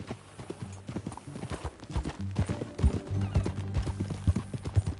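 Horse hooves clip-clop in a steady rhythm in the video game Red Dead, close and continuous, with a faint whinny and some background noise.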